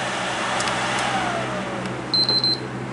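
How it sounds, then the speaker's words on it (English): A PlayStation 3 cooling fan spins fast with a steady, moderately loud whir and rushing air, and a few short high chirps come near the end. "So you hear the fan in here going real fast."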